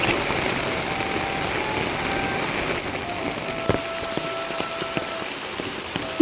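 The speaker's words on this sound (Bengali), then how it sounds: "এই বৃষ্টি নামেও না, নামলে আবার থামেও না" Steady rain pattering on surfaces outdoors, a dense, even hiss that fills the whole stretch at fairly loud level, with a faint low tonal hum and a few sharper drip hits near the end.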